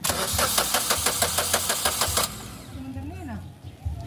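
A Kia Picanto engine cranking with a rapid rhythmic starter churn for about two seconds, then catching and settling into a lower running idle, with voices talking nearby.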